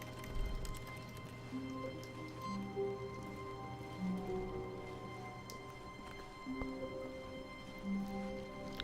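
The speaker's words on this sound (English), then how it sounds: "You can hear it raining or hailing or whatever." Rain or hail falling in the video game The Stanley Parable, a soft patter of drops with scattered light taps and drips over a quiet ambient hum, faint and continuous.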